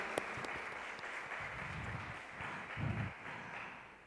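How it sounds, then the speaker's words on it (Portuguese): A church congregation claps steadily in sustained applause, a dense, even wash of many hands, with faint low voices murmuring underneath near the end. "Dá uma salva de palmas ao Senhor Jesus."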